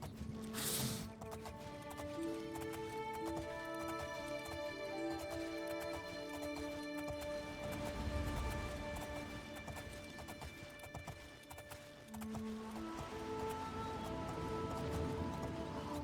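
Armored horse hooves clip-clopping in Oblivion, a fantasy video game, steady rhythmic footfalls under a sustained musical score that persists throughout.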